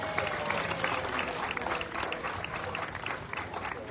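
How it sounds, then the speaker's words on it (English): An audience at a festival club presentation applauds for John in a steady burst of clapping, close and lively, holding strong then thinning slightly toward the end. "give John another big round of applause"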